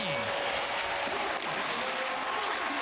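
A crowd roars and applauds at a Minnesota Frost women's ice hockey game, a continuous wash of arena noise under a commentator's voice.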